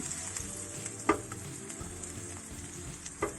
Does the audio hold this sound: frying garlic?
yes